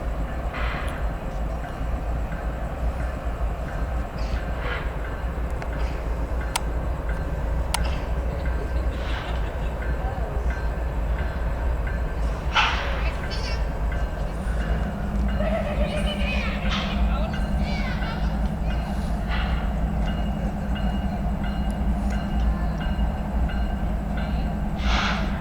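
A freight train rumbles past continuously at moderate distance, with a steady low roar and scattered metallic clanks and squeals over about twenty-five seconds, while voices talk faintly in the background.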